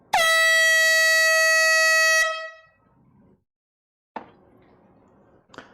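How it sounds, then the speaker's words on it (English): A loud, blaring air horn sounds once for about two seconds, then quiet follows with a couple of faint knocks. "And here comes the air horn."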